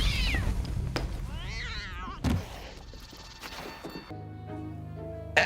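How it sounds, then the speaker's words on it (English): A cat meows in the horror film Creepshow 3, a couple of wavering, drawn-out cries among thuds and other film sounds, followed by a brief musical tone. "we hear a cat noise, but they don't even cut away"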